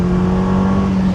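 An Audi 80 B4 Cabriolet engine holds a steady, loud hum at high revs above 4,000 RPM, a continuous droning tone.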